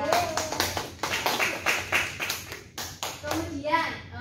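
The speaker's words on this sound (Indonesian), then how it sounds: "Jadi tepuk tangan Audira" A classroom group claps for a student, the applause coming in quick uneven bursts that rise and fall over several seconds, with children's voices chattering underneath.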